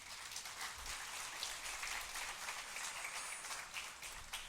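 Soft, steady clapping from a church congregation honoring a couple's golden wedding anniversary, faint and evenly spread for several seconds with no talking over it.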